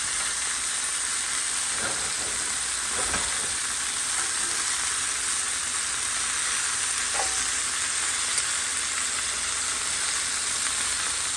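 Chicken thighs sizzle in a pan on the stovetop with a dense, loud, continuous crackle close by. A few soft knocks come near the start.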